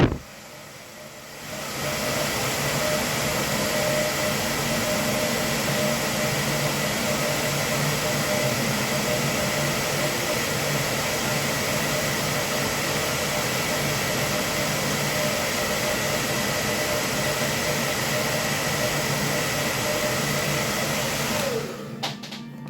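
A hair dryer blows over the base of a freshly painted miniature. Its steady, loud rushing whoosh starts abruptly, runs unbroken for about twenty seconds, then cuts off.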